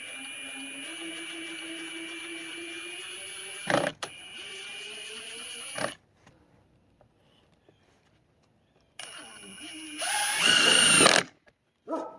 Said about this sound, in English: So now we're going to use a regular impact driver